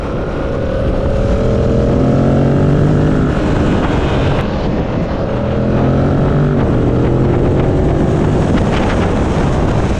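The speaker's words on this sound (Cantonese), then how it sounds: "車速越高咧，啲咆哮聲就越明顯嘅" A 2025 Yamaha MT-07 Y-AMT motorcycle on the move, its intake roar vented through holes in the airbox, rising in pitch twice as the revs climb, loud and close under heavy wind rush.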